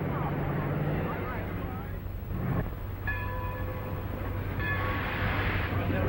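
A train in an old film scene rumbles steadily at a station while a horn or whistle sounds in short tonal blasts, with people talking over it.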